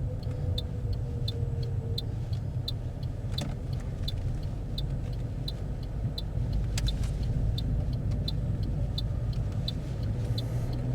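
A car engine rumbles low and steady from inside the cabin during a driving test, while a turn-signal indicator ticks in a regular rhythm the whole time.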